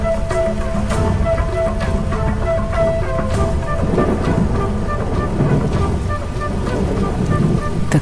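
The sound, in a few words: rain downpour on the savanna plain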